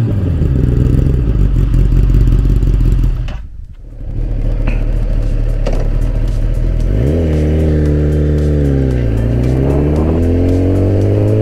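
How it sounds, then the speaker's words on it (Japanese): Sport bike with an Akrapovic slip-on exhaust muffler, loud and close, idling with a deep steady tone, briefly cutting out, then settling again before two rising and falling revs. "ちょっとこのマフラー音も撮ってみたのでちょっとお聞きください。"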